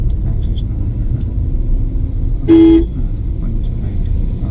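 A car horn gives one short, clear toot during a driving lesson, standing out over a steady engine and road rumble from inside the moving car.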